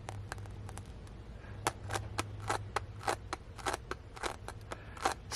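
Sticky JConcepts Tusk 1.9-inch RC crawler tires being pulled apart and handled, giving a string of sharp, close tacky peeling clicks and crackles in irregular bursts over a low steady hum.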